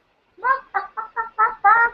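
A hen clucks in six short, close bursts that get louder toward the end, with no speech over them.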